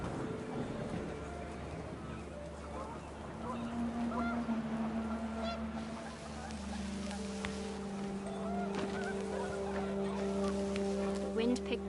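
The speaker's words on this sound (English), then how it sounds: "panicked geese appeared and quickly went" Panicked geese honk in a windy outdoor spot, a flock calling with overlapping nasal honks that rise and hold over a steady low rumble of wind and engine-like drone, the cries growing denser toward the end.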